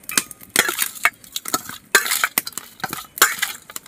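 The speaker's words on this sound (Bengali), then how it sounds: "এবারে আমি চিংড়িটাকে মাখিয়ে নেব। তার জন্য আমি একটু হলুদ গুঁড়ো আর স্বাদ মতো লবণ এইটাকে দিয়ে আমি মাখিয়ে নেব।" Raw prawns being mixed by hand with turmeric powder and salt in a bowl, a series of wet squelching and clinking rubs in uneven bursts, close and clear with no talking.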